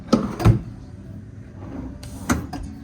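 Drawers in a Las Vegas hotel suite at Harrah's slide and thump shut, making a few short wooden knocks in two quick pairs against quiet room tone.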